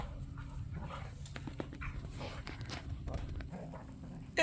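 Dogs playing outdoors while one digs a hole, with scuffling paws, soft whimpers and occasional bark-like bursts spread across several seconds, moderately close, ending in a louder burst.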